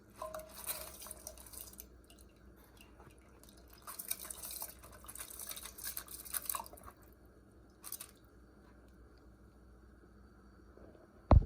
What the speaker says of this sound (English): Now I am going to add the washed rice into this.